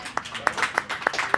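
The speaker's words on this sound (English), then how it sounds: "Everyone just give Glenny a round of applause here." A few people clapping in an office during a fantasy football draft, about six sparse, separate claps spread across a moment, fairly close, with a faint background murmur.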